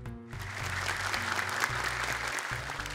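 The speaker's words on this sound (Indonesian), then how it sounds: "Tepuk tangan untuk mereka." Studio audience applauding children on an Indonesian Quran-memorisation TV show, a dense, steady clapping that fills the whole stretch over a low musical hum.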